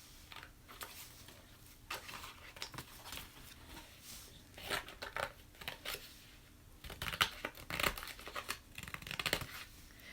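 Scissors snip through a paper envelope in several short cutting bursts, close up and fairly quiet, with brief pauses while the envelope is turned sideways between cuts.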